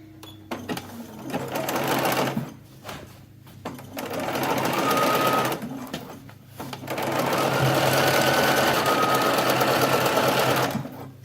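A sewing machine stitches a mock flat felled seam on the shoulder of a denim shirt in several bursts of fast, even whirring, with short pauses between runs.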